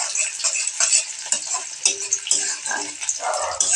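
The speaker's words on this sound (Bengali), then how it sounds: "মশলাগুলো ভাজা হবে" Spices fry in a pan with a close, bright crackling sizzle, punctuated by uneven taps and scrapes of stirring, the texture thickening briefly toward the end.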